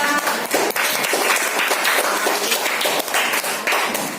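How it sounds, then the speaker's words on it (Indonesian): Many hands clapping together at once, a dense, steady burst of applause from a group of children in a room, lasting several seconds. "Tepuk tangan untuk kita semua"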